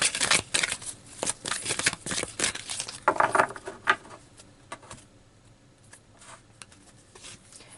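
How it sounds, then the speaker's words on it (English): Tarot cards shuffled and pulled by hand, a quick run of crisp riffling and slapping noises up close that thins out into lighter, scattered rustles. "So let's continue pulling more cards."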